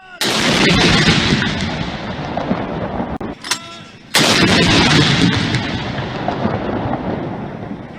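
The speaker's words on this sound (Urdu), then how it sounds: "لاہور میں 21 جبکہ وفاقی دارالحکومت اسلام آباد میں 31 توپوں کی سلامی دی گئی۔" Heavy cannon booms of a gun salute fired for Pakistan Day in Lahore or Islamabad, loud rolling blasts filling the clip with a brief lull before another powerful report and long reverberant rumble.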